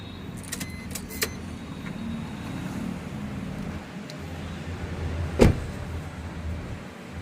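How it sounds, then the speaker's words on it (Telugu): Power windows on a 2015 Maruti Ertiga VDi diesel car, a brief electric motor whir heard close inside the vehicle among faint clicks and quiet cabin noise. "అది పవర్ విండోస్"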